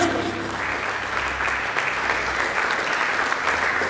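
Worshippers in a church service applaud Jesus Christ with sustained, thick clapping from a crowd, even and loud throughout without letting up.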